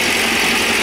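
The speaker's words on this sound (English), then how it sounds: "Right, I say we kill the engine now." MGB GT engine idling, a steady close rumbling hum with even vibration and no talking.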